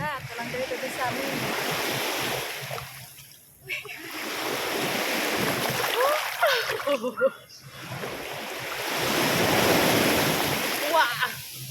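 Sea waves surge and crash in broad washes on a Boracay beach, rising and receding close by, with wind noise and occasional excited exclamations over the surf.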